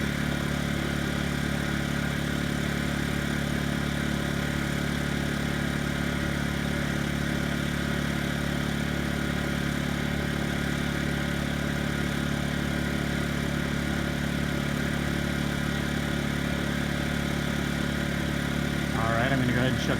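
A Honda inverter generator, from the EB2800i/EG2800i/EU2000i range, runs in full non-eco mode, a loud, steady, close engine drone with a constant hum that holds unchanged throughout.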